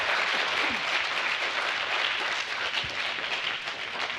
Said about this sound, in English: So let's just give a round of applause for our three panelists before we start.